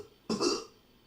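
A single short, close cough bursts out abruptly from near silence, a rough throat-clearing sound that fades quickly.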